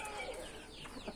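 A chicken clucks softly in a farmyard on a hot day, a few faint, quiet calls over light background noise.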